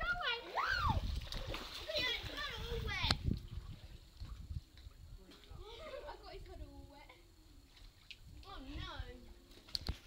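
Water splashes in a villa swimming pool, with bursts of splashing and trickling at moderate distance, mixed with children's voices and shouting.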